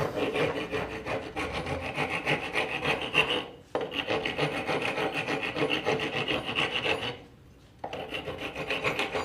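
A wood rasp filing down a wooden dowel peg in a rustic woodworking shop, rough rasping strokes repeated in long steady back-and-forth runs, close and loud, pausing briefly twice.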